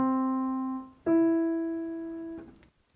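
A melodic third on piano from a beginner sight-reading lesson, two notes played one after another: a soft first tone fading, then a firmer second note that sustains and decays before a faint release, with no voices.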